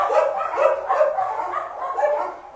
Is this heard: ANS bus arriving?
no